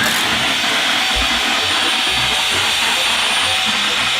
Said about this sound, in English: There's vacuum in the ceiling.